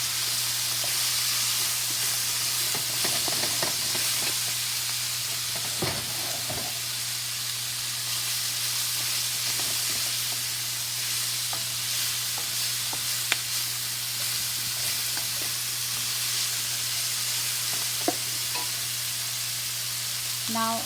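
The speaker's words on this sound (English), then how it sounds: "Fry very well for 2 to 3 minutes." Potatoes and cauliflower fry in a pan for aloo gobi, a steady close sizzle with scattered pops and crackles and a constant low hum running underneath, no talking.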